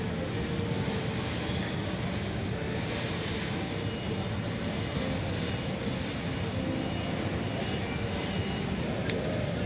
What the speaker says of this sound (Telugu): అక్కడ ఫ్లైట్ రన్నింగ్లో ఉంది.